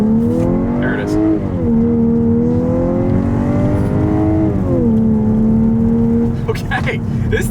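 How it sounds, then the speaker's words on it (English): A 2025 Volkswagen Atlas with a turbocharged four-cylinder accelerates hard in sport mode, its loud steady engine drone climbing in pitch, dropping at two gear shifts, then climbing again, heard close from inside the cabin. "acceleration test with the car having full control in sport driving mode in 3, 2, 1, go."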